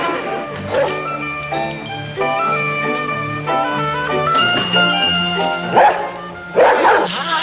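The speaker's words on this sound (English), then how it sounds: "Have you been doing all that barking, huh?" A pet dog barks and yips in short bursts in an old family sitcom scene, with sustained background music heard throughout.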